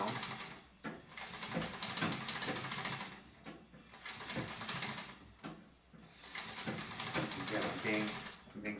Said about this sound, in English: So now we go back and we'll finish stitching that binding down.